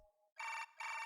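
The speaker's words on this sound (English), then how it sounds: "The sound was from my new smartphone. Damn, what a phone, what a ringtone." Smartphone ringtone in the visual novel game Chaos;Child: two loud, bright electronic rings, each about a quarter second, following a brief soft tone, with no talk.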